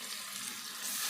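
Chicken dropped into a pan with softened tomato for a tomato chicken dish, giving a steady, faint, close sizzle of frying that grows slightly louder near the end.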